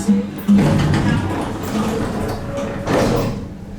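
Schindler M-Series touch-sensitive elevator doors sliding inside a building, a steady mechanical rumble and whir with a couple of louder thuds as the panels start and stop, heard close up.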